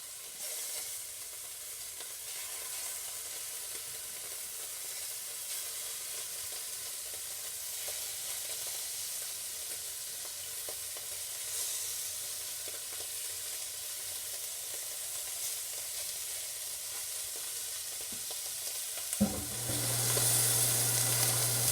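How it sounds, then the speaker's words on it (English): Goat meat for a curry searing in a pan on high heat, with a steady close sizzle and hiss running throughout, ending in a louder burst of frying near the end. "So this has been searing for maybe 3 minutes on rather high heat."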